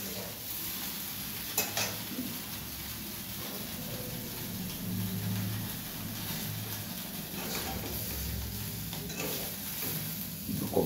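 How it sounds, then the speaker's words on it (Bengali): Cauliflower frying in a small pan gives a steady, soft sizzle with occasional stirring scrapes and clinks, continuous at a moderate distance with no voices. "তো ফুলকপিগুলো আস্তে আস্তে ভেজে নিচ্ছে ভালোভাবে।"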